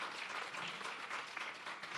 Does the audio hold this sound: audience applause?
yes